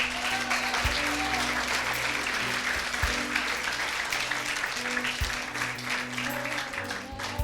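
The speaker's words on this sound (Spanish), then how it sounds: "Denle un fuerte aplauso a Jesucristo." A church congregation breaks into loud, sustained applause during a Spanish-language sermon, dense clapping filling the whole stretch with a steady roar and no voices rising above it.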